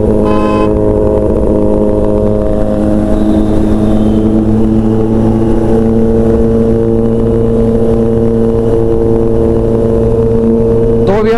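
A Kawasaki Z900 motorcycle engine runs loud and close, holding a steady droning rumble throughout with little change in pitch.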